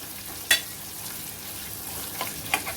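Onion frying in a pan with bay leaves and cashews: a soft, steady sizzle with two sharp crackling pops, one early and one near the end, quiet and close with no talk.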